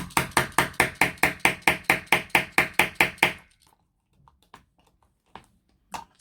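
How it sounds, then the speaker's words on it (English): A quick, even run of about fifteen sharp metallic taps from a small hammer on metal while making a ring binder, close and loud, then it stops and only a few faint clicks follow. "you bang it with the hammer until it's secure"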